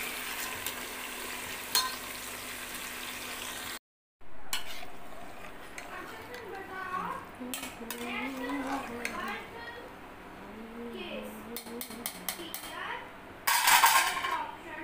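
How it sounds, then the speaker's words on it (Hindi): Ginger and chili fry in a pan while a spoon stirs and clinks against the metal, with a soft sizzle and someone talking over the cooking. "अदरक और मिर्च हाँ, मैं बहुत अच्छे से भून"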